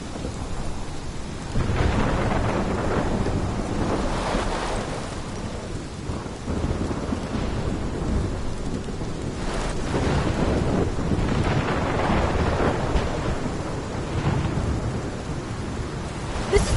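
A thunderstorm in the Life is Strange video game brings a steady downpour of rain under repeated deep rolling rumbles of thunder, with no voices.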